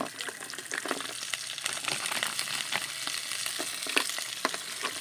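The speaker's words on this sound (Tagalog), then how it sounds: "Lagay ko muna yung tahong. Dahan-dahanin ko lang kasi magagasgasan." Mussels are set into an electric cooking pot, giving a wet, crackling sizzle with clinks and small splashes at an irregular pace, steady and moderately close.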